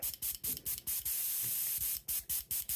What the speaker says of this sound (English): WD-40 right in the trigger, just a little squirt.